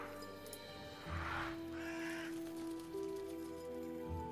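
Robin Hood's bird in the Queen's Quest 2 adventure game gives a couple of hoarse caws over a soft, steady ambient backdrop with faint rain-like patter; the calls are fairly quiet and spaced apart.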